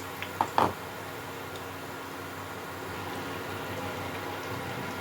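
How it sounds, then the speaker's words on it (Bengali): Aloo chop potato croquettes frying in oil over low heat, a steady faint hiss and sizzle throughout, with a few brief crackling pops near the start. "সবগুলো আমি এভাবে ভেজে নিচ্ছি"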